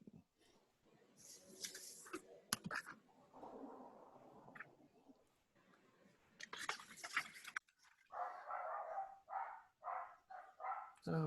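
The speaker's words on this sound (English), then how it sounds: "Oh, yippee dogs, hooray." Dogs bark faintly in the distance, first in scattered bursts and then in a quicker run of repeated barks near the end, under a quiet room background.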